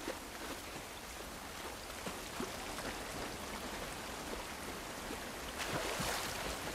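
Continuous hiss of rain falling outdoors in the video game The Last of Us Part 1, steady throughout with a slight swell near the end.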